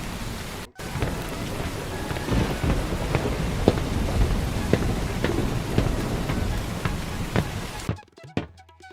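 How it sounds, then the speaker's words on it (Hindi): Heavy rain pours in a dense, steady hiss with scattered louder drops and rumbles, loud and close, then cuts off abruptly near the end. "बहुत बारिश हो रही है।"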